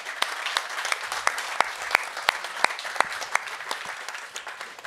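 A seminar audience at a hydrogen event in Almedalen gives a steady round of applause, many distinct claps over a dense patter, moderately loud and without speech.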